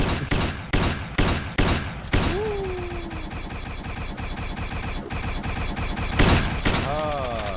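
Gunfire in the video game Garry's Mod during a Star Wars roleplay session: a series of loud, sharp shots in quick bursts at the start, then a dense, continuous din of game effects with a rising whine and another burst near the end.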